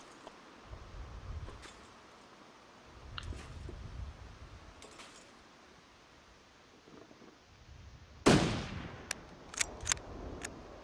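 A single loud gunshot in The Long Dark cracks out close by after a long stretch of quiet wind-like ambience, followed by a few sharp clicks and rattles.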